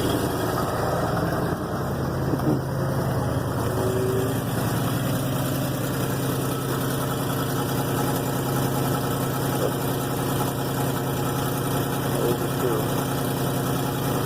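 A Ford F350 pickup with a Flowmaster Pro Series muffler runs at high idle, its engine holding a steady, even low rumble and drone close by throughout with no change in pitch.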